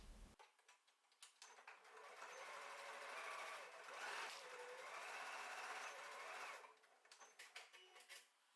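A sewing machine runs steadily for several seconds, stitching across the top edge of cloth bag handles, with short starts and stops for backstitching at each end of the seam. The whirring is close and clear, with no talk.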